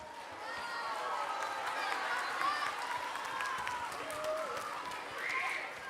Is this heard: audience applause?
yes